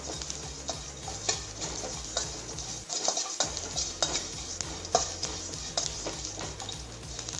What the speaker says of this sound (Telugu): కొంచెం లవంగాలు ఫ్రై చేసుకోవాలి.